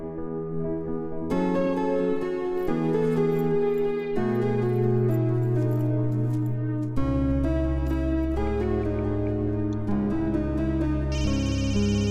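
A mobile phone rings with a melodic musical ringtone, its tune playing on continuously and fairly loud for several seconds, alone without any talking.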